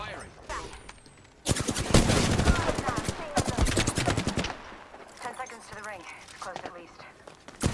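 Rapid automatic gunfire from a team shooting together in Apex Legends, a dense loud barrage of close shots that thins into scattered bursts, with people talking over it.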